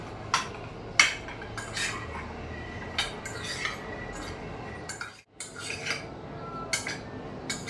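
Frozen grapes being tossed with masala in a bowl, with a spoon clinking and scraping against the bowl in irregular taps, close and fairly quiet.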